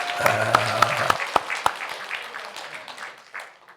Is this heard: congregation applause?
yes